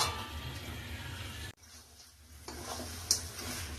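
Mutton curry pieces sizzle and are stirred in a hot pan, with a steady frying hiss and scraping that drops away briefly mid-way before the sizzle returns, with a sharp clink near the end.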